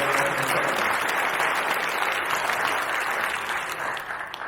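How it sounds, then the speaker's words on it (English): Steady audience applause at a Baptist church candidates' meeting, a dense wash of many hands clapping that holds evenly and then begins to taper off at the end. "And let's take that round of applause for the whole team,"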